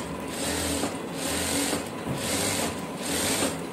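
A sewing machine stitches blouse fabric in a tailoring class, running in several steady bursts of rapid whirring with brief pauses between runs, close and clear with no talking.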